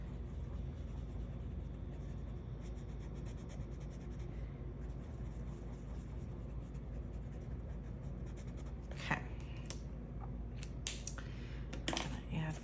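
Marker or pencil coloring in boxes on a printed savings challenge chart, a soft continuous scratching close by with a few faint clicks and rustles near the end.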